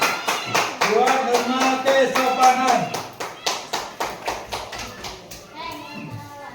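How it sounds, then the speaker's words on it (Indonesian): A class of children at an elementary school claps hands together in a run of sharp, rhythmic claps, loud and near, with a teacher and children talking over and between them. "Yuk, tepuk tangan."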